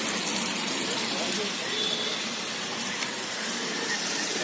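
Chili and turmeric paste sizzles in a hot pan for chicken kosha with a steady, dense hiss, and a voice speaks faintly beneath it.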